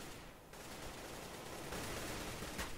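Dense gunfire rattles through a competitive video game match, a continuous stream of shots and bursts at moderate distance with no voices over it.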